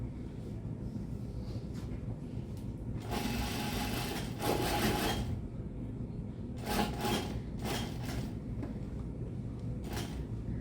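A sewing machine stitches a shirt collar in several short bursts of a few seconds each, close and fairly quiet, with pauses between runs as the fabric is lined up.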